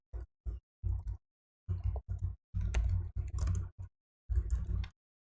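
Bursts of computer keyboard typing come in quick clusters separated by short pauses, close and fairly quiet, with no voices.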